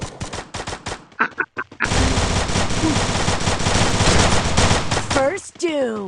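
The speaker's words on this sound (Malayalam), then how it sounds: "അവിടെ നിന്നൊരു വെടിശബ്ദം കേൾക്കുന്നു" Rapid bursts of automatic gunfire ring out in the mobile shooting game Free Fire MAX, first as choppy separated volleys, then as a sustained loud barrage, ending with a few rising electronic tones.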